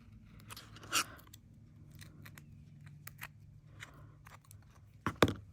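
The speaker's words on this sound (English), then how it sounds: "I will just trim them off with my blade because I don't want them to fold over to the front" Blade trimming leftover bits of metal tape on a craft piece, giving a few short, crisp snipping cuts, the sharpest near the start and a quick pair at the end, close and fairly quiet.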